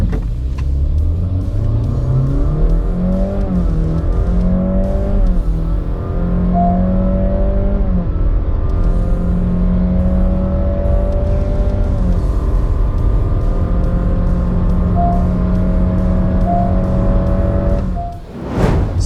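A Honda City Hybrid accelerates hard from 0 to 100, its engine note climbing and sustaining loudly for a long stretch, heard up close with a steady road rumble beneath.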